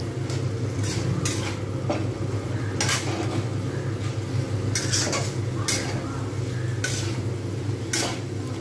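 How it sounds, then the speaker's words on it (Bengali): A spoon scrapes and stirs potato and rohu fish roe fritter curry in a pan over steady low frying hiss, with periodic brighter scraping strokes about once a second, close and fairly loud, no talking. "জাস্ট আমি একটু ভালোভাবে নেড়ে নেব।"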